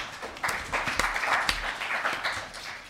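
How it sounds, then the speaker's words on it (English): A small audience at a data policy panel event applauds the panelists. The clapping is light and uneven, with a few separate claps standing out, and it tapers off at the end. "Please give them a round of applause."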